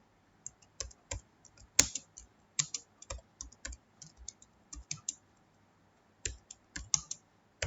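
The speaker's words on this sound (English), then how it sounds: "now we'll type the program" Irregular keystrokes of someone typing an HTML program into Notepad on a computer keyboard, sharp close clicks in uneven bursts separated by short pauses.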